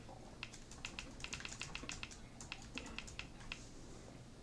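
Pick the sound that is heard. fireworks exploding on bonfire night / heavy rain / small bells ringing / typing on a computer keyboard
typing on a computer keyboard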